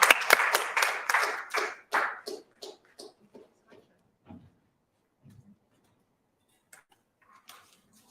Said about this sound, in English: let's give a warm hand of applause for Advocate Goliath